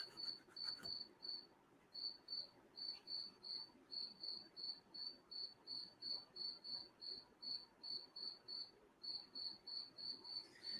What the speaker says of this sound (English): That cricket's close, boy. I don't know if you could hear that cricket.